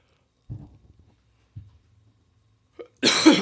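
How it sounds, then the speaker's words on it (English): A single throaty cough around the middle, then a long, loud, drawn-out breathy yawn-like exhalation at the end, close to the mic with quiet gaps between. "Had to cough and yawn at the same time there."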